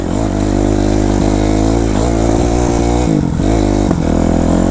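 A 2005 Kawasaki KX 250F dirt bike engine runs loud and close throughout, a steady four-stroke drone with brief rev dips and recoveries, no talking over it.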